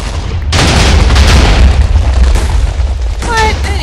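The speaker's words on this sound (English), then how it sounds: "Alright, well, I'm gonna blow myself up." Player-triggered explosion in Minecraft, a sudden loud boom that erupts then rumbles and crackles for several seconds before fading, with a brief game sound at the end.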